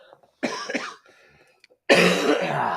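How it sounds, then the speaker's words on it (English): Two quick coughs close to the mic, then a brief quiet pause, followed by a louder, harsher cough that trails off at the end. "Hold on, one more cough."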